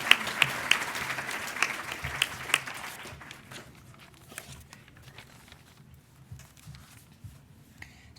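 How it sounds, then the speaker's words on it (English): An audience at a school innovators ceremony applauds a sixth-grade student emcee, with loud clapping in the first few seconds that quickly thins out into scattered claps and room noise. "Let's give Sydney a round of applause."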